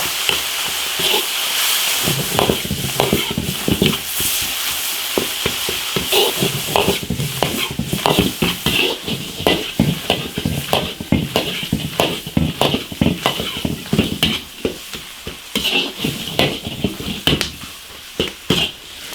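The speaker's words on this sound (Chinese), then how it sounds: "辣椒酱、辣椒、花椒、香料，酱油来一点，把羊杂煸入味" Lamb offal stir-fries in an iron wok with chili, chili paste, Sichuan pepper, ginger, spices and soy sauce: a constant close sizzle punctuated by rapid, rhythmic clanks and scrapes of a spatula on metal.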